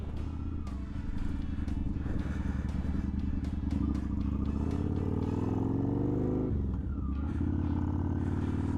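A 2007 Kawasaki VN900 Custom motorcycle cruising along, its engine droning steadily and close with shifting pitch as it changes speed, plus occasional clattering bursts over the running motor.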